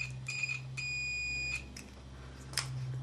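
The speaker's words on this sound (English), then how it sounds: "if we touch those two together now, there should be no resistance there and the tester will bleep" Electrical continuity tester bleeping as wires are checked during UK ceiling rose wiring, giving a short beep then a longer steady tone, close and clear over a low hum, with no talk.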